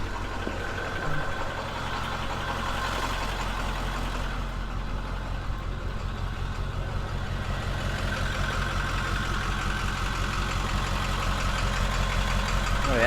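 A 7.3 diesel 4x4 van engine runs hard through a burnout, a loud, continuous rough drone with a knocking, unhealthy-sounding texture that holds steady and swells slightly toward the end.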